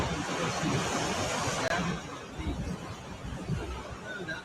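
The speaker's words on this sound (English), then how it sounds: "Nice gust right there." Strong wind gust sweeps across Maui amid wildfire damage near a farm stand, a loud, broad roaring rush that swells then eases, with faint voices underneath.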